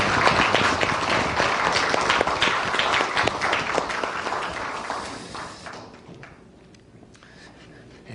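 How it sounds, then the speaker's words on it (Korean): Audience applause of thanks and encouragement at a university chapel service, a dense, sustained wash of clapping that fills the room, then thins and fades out toward the end. "여러분, 감사의 박수, 격려의 박수 하겠습니다."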